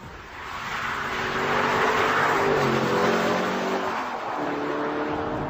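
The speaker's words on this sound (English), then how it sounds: "And the Aston Martin DB9 Sport Pack. British, V12, very pretty." A British Aston Martin DB9 Sport Pack with a V12 engine revs hard, its tone climbing and swelling to a loud sustained roar, then easing off and pulling again, close and alone without voices.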